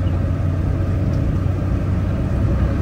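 A Suzuki Alto VXR 660cc automatic car pulls forward, its engine a steady, even low rumble heard from inside the car, with no one talking.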